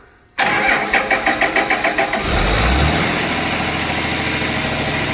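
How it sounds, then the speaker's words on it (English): A Cummins diesel test engine running on HythanolPLUS fuel cranks with a rapid rhythmic starter chug, catches after about two seconds and settles into a loud, steady close idle. "let's see what happens when it hits the HythanolPLUS"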